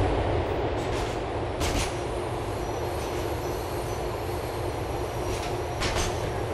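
A Grand Theft Auto IV LTA Rail train rumbles along the line with a loud, continuous roar of wheels on track and a few brief metallic squeals rising over the din.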